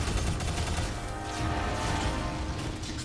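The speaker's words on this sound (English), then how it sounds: "Explosion forever!" Explosions and gunfire roar in the side-scrolling action game Shadow Complex, a dense, continuous barrage of blasts and rattling shots at loud, steady intensity.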